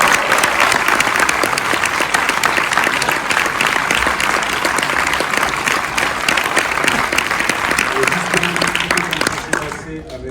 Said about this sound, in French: Est-ce que vous pouvez faire du bruit s'il vous plaît pour Tahar Rahim